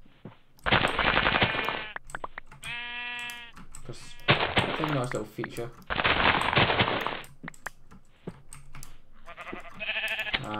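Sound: sheep bleating in the video game Minecraft

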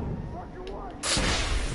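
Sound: gunshot at a lock in video game The Order: 1886

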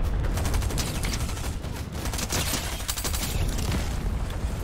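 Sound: gunfire in Fortnite video game

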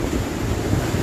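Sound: strong wind of Super Typhoon Goni (Rolly)

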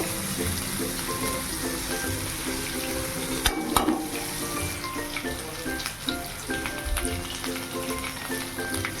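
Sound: tomato and spices frying in oil for potato curry

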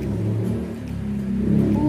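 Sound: motorbike passing by

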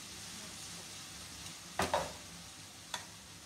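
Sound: chicken frying in a pan

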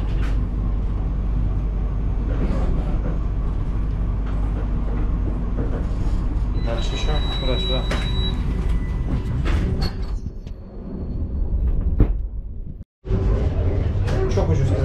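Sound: moving passenger train interior

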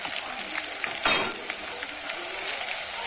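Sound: ginger, onion and garlic paste frying in a pan

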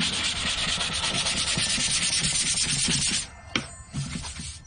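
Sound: sanding wood by hand

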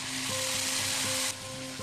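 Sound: sour yogurt added to sizzling chicken in pan

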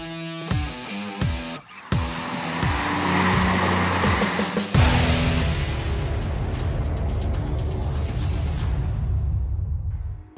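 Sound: Porsche 911 (996) car

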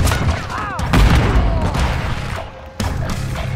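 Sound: gunfire in video game Call of Duty: Modern Warfare III

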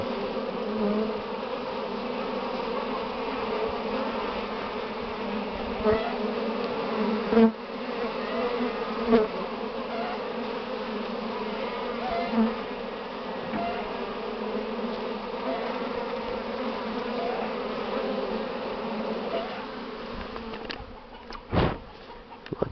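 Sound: honeybees flying around hives

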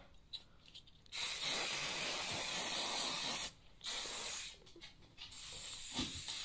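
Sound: hairspray being sprayed

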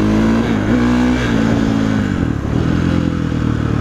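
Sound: KTM 450 SXF motorcycle engine revving

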